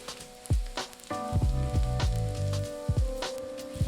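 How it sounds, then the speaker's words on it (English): Garlic stir frying in hot vegetable oil in a wok over medium heat, giving a soft sizzle broken by scattered sharp knocks and clatters from stirring, fairly close and quiet. "Until hot, add garlic and stir fry for half a minute."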